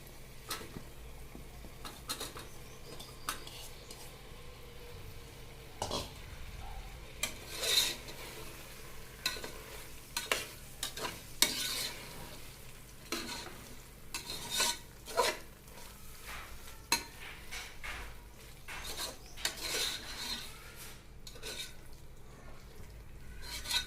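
A spoon scrapes and stirs mushrooms frying in a pan for a mushroom biryani, with irregular clinks and rasping strokes over a soft, low sizzle. The sounds are fairly quiet and come in bursts.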